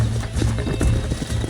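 Horse hooves clip-clop in a quick, close rhythm in Red Dead Redemption, a handful of sharp steps over a low background with no talk.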